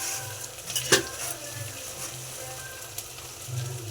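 Curry leaves drop into hot oil for a steady close sizzle, with one sharp crackling burst near the start that settles back into continuous frying for the rest.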